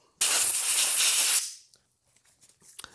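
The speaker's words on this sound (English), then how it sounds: "I got my compressed air here," A strong, close blast of compressed air hisses for just over a second as it blows debris off the breech face of a rimfire rifle, then cuts off, leaving faint clicks and handling noises.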